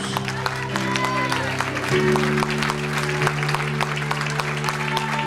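Congregation applause in a church service, a steady broadband wash of clapping over sustained low organ or keyboard tones, with some voices mixed in throughout.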